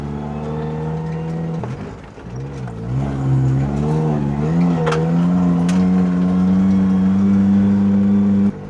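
A Suzuki car with a worn bearing drives on a mountain trail, its engine droning loudly up close with a pitch that dips, then rises and settles into a sustained whine.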